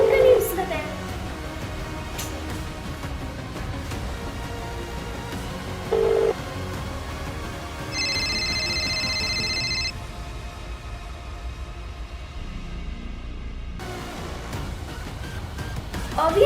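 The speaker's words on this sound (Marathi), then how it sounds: "हा फोन का नाही उचलत आहे?" A telephone rings unanswered, with a steady electronic ring tone for about two seconds in the middle of a quiet room, amid short bursts of other sound.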